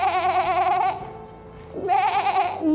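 A human voice imitating goats and sheep bleating, two wavering nasal "beh" calls separated by a short pause, close and clear.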